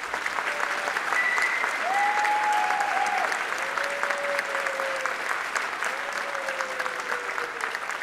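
Outdoor audience at a sunset concert by a US Navy fleet band gives sustained applause, a steady, moderately distant patter of many hands, with a few brief sustained tones ringing over it.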